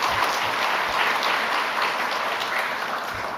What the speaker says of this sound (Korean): 찬양팀과 우리 갈릴리 찬양대에게 우리 감독 박수 한번 보내주세요.